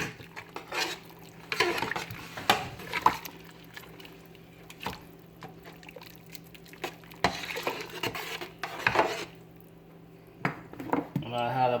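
Spoon stirring butter into rice and peas in a cooking pot, with scattered scraping and clinking knocks against the pot at an uneven rhythm, close and moderate, alongside faint low background hum.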